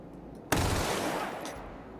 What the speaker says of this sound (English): I just don't like gunshots.